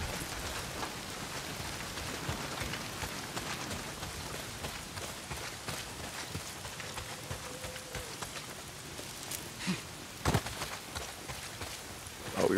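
Steady rain pours in Days Gone on PC, a dense continuous hiss of drops that holds unbroken throughout, with a couple of faint thumps near the end.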